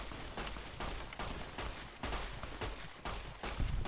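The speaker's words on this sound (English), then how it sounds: "Oh my god, who's shooting me?" Gunfire aimed at the player in Fallout: New Vegas, heard as quiet, steady irregular shots and bursts over a few seconds, fairly distant and low in level.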